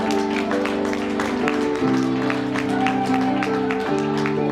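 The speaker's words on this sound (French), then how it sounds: "je vous demande de les applaudir" Applause in a church during a Christmas concert, clapping spread across the congregation while sustained organ or keyboard chords keep sounding underneath, moderately loud throughout.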